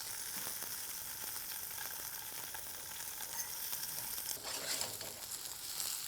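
Paneer cubes fry in hot oil in a pan for matar paneer, giving a dense, continuous close sizzle with light spattering that swells briefly as the pieces are turned.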